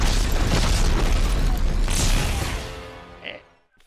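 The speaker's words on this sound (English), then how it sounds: "Rocket launcher." A rocket launcher fires in the video game Dead Space 3, a loud, heavy boom with a rumbling burst that swells and then fades out over a few seconds.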